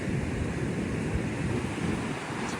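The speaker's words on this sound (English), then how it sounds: "pretty horrific, the wind today." Strong wind roaring across a beach at the edge of the dunes near high tide, a steady, loud, dense rush buffeting the microphone throughout with surf blended in, no voices.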